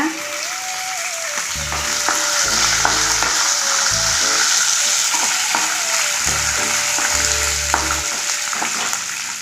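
Green chillies frying with chana dal in hot oil for a cabbage chutney, a loud continuous sizzle with crackling and occasional stirring clatter, close up and steady throughout.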